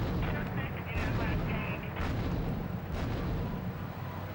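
Gunfire in Grand Theft Auto 3 on PS2 during a chase with a tank, heard as loud, dense booming bursts and rumbling blasts layered over continuous game noise, with no speech.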